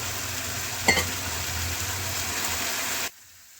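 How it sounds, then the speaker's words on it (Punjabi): Masala for a black chickpea dish fries in a pan with a dense, continuous close sizzle, a brief clatter of stirring early on, then the sound cuts off abruptly. "ਮਸਾਲਾ ਸਾਡਾ ਭੁੱਜ ਰਿਹਾ ਹੈ"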